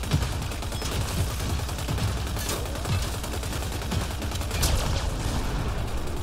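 Blind gunfire from behind cover in Mass Effect Andromeda, a steady rapid rattle of automatic weapon shots at moderate level, continuous through the whole stretch with no voices.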